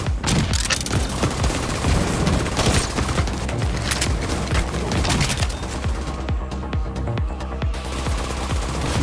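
Dense, continuous automatic gunfire in The Division 2 video game fires at the player, rapid close bursts and booming impacts overlapping throughout with no pauses.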